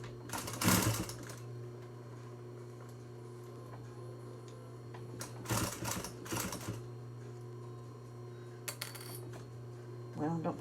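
Home sewing machine stitching a fabric face mask near the nose band, with short bursts of rapid mechanical whirring and needle chatter separated by pauses, close and moderately loud over a steady background hum.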